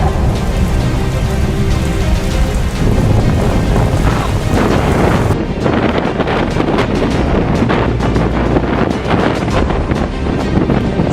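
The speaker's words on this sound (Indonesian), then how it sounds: "tornado yang menyerang kota Joplin, Missouri, Amerika Serikat, pada tanggal 22 Mei tahun 2011" Heavy rain and roaring wind from the EF5 tornado that struck Joplin, Missouri, on 22 May 2011: a loud, continuous storm wash with gusting rumble and pelting drops, no voices.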